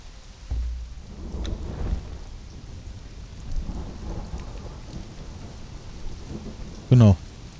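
Thunderstorm in the video game Conan Exiles, set in a tundra: a low rolling rumble and steady patter of rain fill the scene, ending in a sharp, loud thunderclap near the close.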